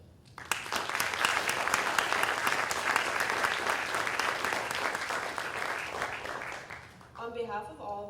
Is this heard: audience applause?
yes